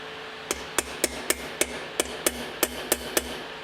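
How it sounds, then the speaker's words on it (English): A small hammer taps a part into place on a Nissan S14 about a dozen times in a quick, fairly even rhythm, close up and crisp, with no voices. "Let me get a little hammer. I'm gonna go ahead and tap this on here."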